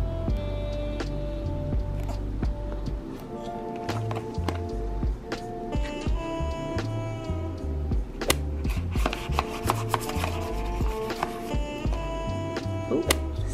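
Rapid irregular slicing and crinkling of plastic packaging being cut with a knife, sharp crisp hits and rustles close up, continuous throughout with no talking.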